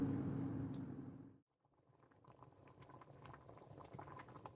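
Cream sauce for chicken carbonara simmers and bubbles softly in a pan, a low, dense burble that cuts out briefly and returns with faint pops and ticks.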